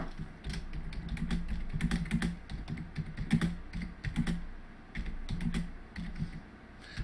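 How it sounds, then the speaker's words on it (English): Close, quiet tapping of a computer keyboard, with irregular bursts of keystrokes and short pauses between words. "So I'm just going to type some text in here."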